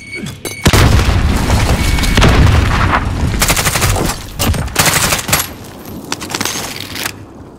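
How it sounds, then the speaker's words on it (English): Call of Duty Warzone battle in Verdansk: a heavy grenade blast booms up front, followed by sustained bursts of automatic gunfire and scattered shots with metallic clinks, loud and dense throughout. "Grenade out!"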